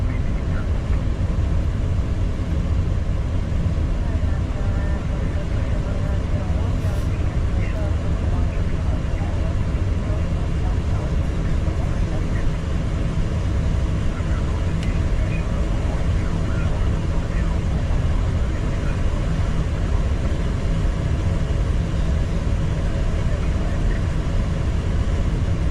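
Steady airplane engine drone during flight with a female pilot at the controls, a constant low roar holding evenly throughout while a voice talks over it.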